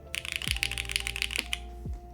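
Rapid keystrokes on a Yujin TKL top-mount keyboard fitted with Cherry MX Hyperglide switches, a dense close-up run of clacky presses over about a second and a half with a few isolated taps after.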